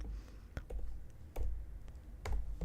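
Typing on a computer keyboard, sparse light key taps and clicks scattered unevenly and close by over faint background noise, with no talking.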